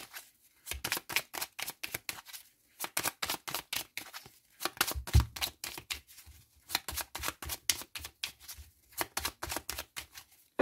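Oracle cards shuffled by hand in a steady rhythm, with rapid repeated slaps and riffles in close bursts separated by brief pauses, close and fairly clear.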